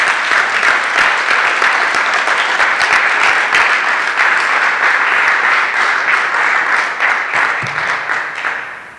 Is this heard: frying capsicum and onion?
no